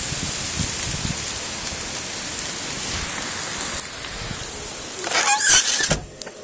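Heavy Hurricane Sandy rain falls in a backyard in Baldwin, Long Island, New York, as a constant dense hiss, with a brief louder rustling burst near the end.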